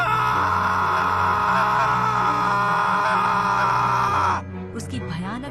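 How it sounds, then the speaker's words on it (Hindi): A priest set on fire by a torch in a temple screams in pain, a loud, sustained, strained cry held for about four seconds before abruptly dropping to a fainter, wavering moan. "पुजारी दर्द से चीखने लगता है।"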